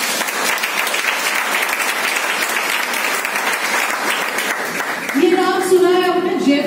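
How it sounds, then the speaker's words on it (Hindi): Steady, dense audience applause fills a financial freedom seminar in Vapi, continuing evenly throughout, with a voice rising above it near the end. "तालियां होनी चाहिए"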